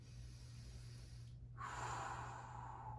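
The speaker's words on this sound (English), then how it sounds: "We're going to take just 5 deep breaths." A single deep breath, a long steady inhale followed by a louder, breathy exhale through the mouth, close and quiet, during a standing movement and breathing routine.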